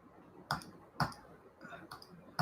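A computer mouse clicks in four or five sharp, separate taps spaced about half a second apart, close and distinct against a quiet room.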